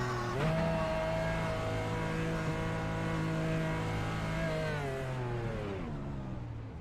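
A GT race car in a racing video game drives along pit road at Watkins Glen, its engine a steady, loud harmonic drone that shifts pitch down as it slows toward the end, heard up close with no talking.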